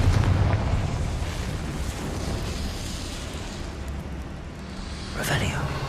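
Fiery Confringo spell blast in Hogwarts Legacy, a dense rumbling explosion roar that fills the whole clip, loud and sustained, with a sharper burst near the end; a voice speaks over it.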